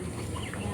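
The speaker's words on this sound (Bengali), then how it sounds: "এই দেখেন মুরগিগুলা অনেক সুন্দর" Brown hens clucking softly in a short, close burst, with a faint low background murmur.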